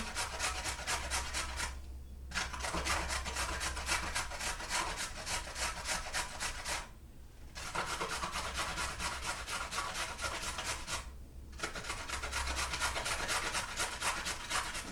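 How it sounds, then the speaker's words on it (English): Carrots being grated on the large side of a box grater, a steady close rasping scrape in long runs with two brief pauses between strokes, no talk. "finish grating my carrots"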